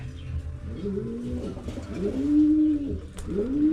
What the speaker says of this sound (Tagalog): ayun na naman yung ating mga kalapati oh